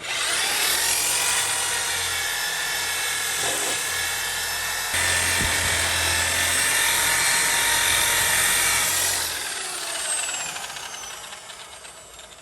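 A high-speed power buffer with a clean pad applies wax under light pressure to the fiberglass gelcoat of a boat. Its loud, steady motor whine runs for about ten seconds, then winds down and fades.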